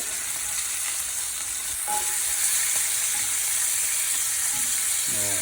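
A porterhouse steak sizzles in a greasy pan with a steady, bright crackle, close by, and a few faint clinks mixed in.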